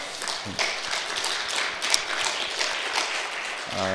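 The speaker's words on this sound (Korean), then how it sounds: "우리 하나님 앞에 먼저 영광의 박수를 한번 돌리면서 시작하겠습니다" Church congregation at a New Year thanksgiving Sunday service claps together, a soft wash of applause with a few sharper claps, ending with a brief tonal sound.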